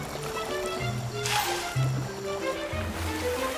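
Elephants bathe in water, with splashes and sloshing surges over a steady flowing-water background, including a louder burst of spray partway through.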